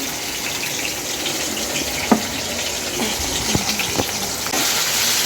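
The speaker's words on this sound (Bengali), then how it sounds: "এই যে সবজিটা যেটা ভাজছি আর কি মাছের মাথাটা দিয়ে দেবো" Vegetables sizzling in oil in a pan while being prepared for a fish-head curry, a steady frying hiss with a few sharp clicks and scrapes of stirring, close and moderately loud, no talking.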